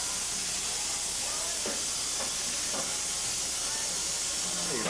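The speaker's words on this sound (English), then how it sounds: "Hey, you're squirting water on me." Water squirted in short repeated bursts over a steady loud hissing background, with no speech.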